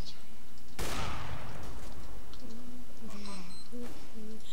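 Gunfire in the video game CS:GO: a loud burst of shots opens the passage, followed by chaotic in-game noise and a few tonal effects.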